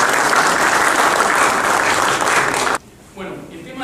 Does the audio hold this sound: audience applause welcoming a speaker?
yes